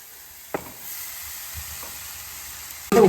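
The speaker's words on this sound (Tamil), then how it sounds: "சும்மா லைட்டாக வதக்கினா போதும் காய்கறி" Capsicum, cabbage and beans sautéing in a pan, a quiet steady sizzle with a few soft clinks of stirring, ending in a sudden louder burst of frying.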